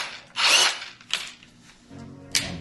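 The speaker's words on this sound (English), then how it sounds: "I'm going to go ahead and use my drill to do it." Handheld power drill boring out an oil galley plug on a VW Type 4 2.0 engine: a loud whirring burst, then shorter bursts and a lower mechanical hum, close by.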